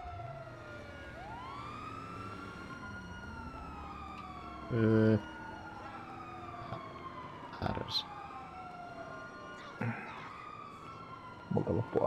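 Police car sirens wail in the GTA V video game, several rising and falling tones that overlap and shift in pitch as they pass. A sharp loud burst cuts in partway through, and someone speaks briefly.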